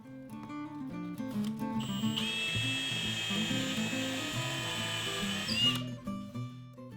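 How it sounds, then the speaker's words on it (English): A cordless drill pre-drilling and countersinking holes in a wooden shop cabinet, a steady high whine lasting several seconds over background music. "And then I'll pre-drill and countersink holes."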